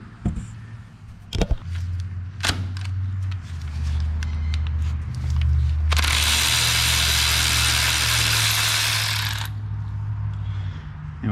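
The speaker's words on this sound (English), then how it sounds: "We're going to remove the grounding bolt right here." A 13 mm grounding bolt is removed from a Ford F150 starter. A few knocks and clicks are followed by a loud, steady whir of a power tool lasting several seconds over a low background hum.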